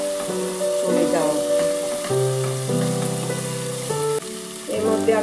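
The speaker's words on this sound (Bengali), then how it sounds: "ভালো করে পেঁয়াজ আর আদা বাটাটা ভালো করে কষিয়ে নেবো" Onion and ginger paste frying in a pan for Bangladeshi chicken pulao, a loud continuous sizzle with tonal hums and shifting pitches running through, no voices.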